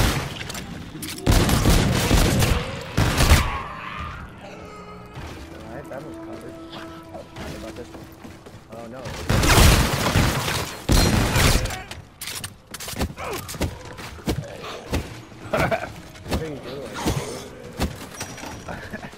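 Gunfire in Call of Duty Infinite Warfare zombies mode, loud bursts of rapid shots and fusillades coming in bunches, mixed with players talking over game noise.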